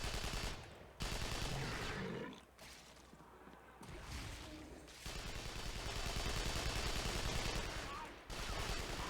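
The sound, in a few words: gunfire from video game Hellgate: London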